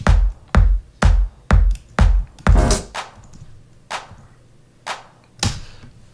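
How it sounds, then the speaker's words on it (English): A wide stereo 909 clap played from an Elektron Machinedrum, a run of sharp evenly spaced hits that thin out and soften toward the end, with slight reverb tails and no talking. "It's just a very wide stereo"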